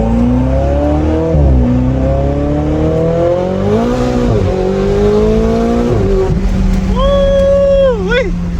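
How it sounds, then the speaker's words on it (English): Engine of a flood-damaged Ferrari or wrecked Lamborghini supercar revving hard through repeated rising sweeps, with a high turbo whistle climbing and dropping near the end, loud and close over a steady low drone. "those turbo whistles are just something else"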